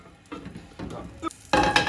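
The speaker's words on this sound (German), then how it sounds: "Jetzt drehen wir das Omelett um." A Spanish potato omelette sizzles in a pan right after being flipped: a few soft scraping and crackling bursts, then a sudden louder burst of close frying near the end, with no one talking.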